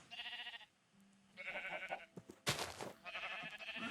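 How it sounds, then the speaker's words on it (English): Sheep bleat in the video game Minecraft, several wavering harmonic cries in a row, fairly loud and close, with a brief soft low tone between calls and a burst of clattering noise near the middle. "I got two gray sheep"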